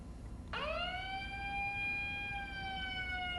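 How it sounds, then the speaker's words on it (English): An emergency alert device's siren starts abruptly and sounds a single sustained tone that rises quickly and then holds steady, clear and near over a quiet background, with no talking. "And the siren, how does that work?"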